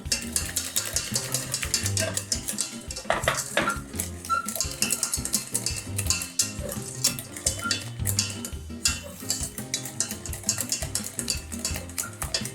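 A utensil scrapes and clinks steadily against a hot pan while pastry cream (crème pâtissière) is stirred, in a quick, busy rhythm of close metallic taps.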